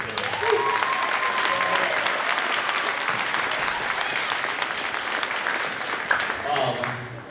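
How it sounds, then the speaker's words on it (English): A round of applause for a school advanced orchestra at a fall concert in St. Albans City School's auditorium, dense steady clapping from a full audience that holds for several seconds and then tapers off. "One more round of applause for the orchestra."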